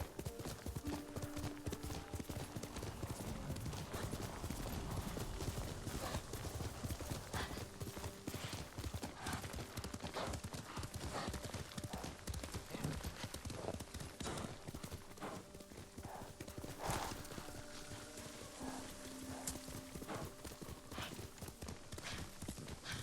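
Horse hooves beat a fast, continuous galloping rhythm while riding in the video game Ghost of Tsushima, loud and close, with game ambience and a brief whinny behind them.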